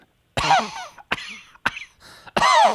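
A person imitates the chronic cough of a COPD patient, with several harsh, forceful hacks in quick succession, loud and close, with no talk over them.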